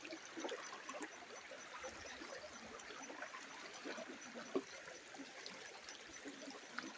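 A soft, steady rush of flowing water, a creek running and trickling over rock, faint and continuous with a few small splashes.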